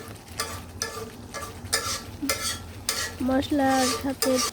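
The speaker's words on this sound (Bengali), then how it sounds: "মশলা থেকে যখন তেল ছেড়ে দিবে তখন আমাদের মশলা কষানো হয়ে যাবে" Spice paste fries in hot oil for a goat meat curry, a dense sizzle broken by repeated rhythmic stirring strokes, with faint tonal scrapes of a spoon against the pan.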